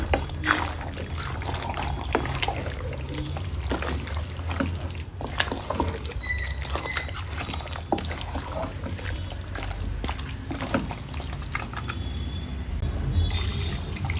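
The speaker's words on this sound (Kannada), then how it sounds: "ಒಂದು 2 ಗ್ಲಾಸ್ ನೀರು ಸೇರಿಸ್ಕೊಳ್ಳೋಣ" Water poured into mutton curry masala in a cooking pot, a steady liquid trickle and splash running near and fairly loud throughout, with faint clatter and no speech.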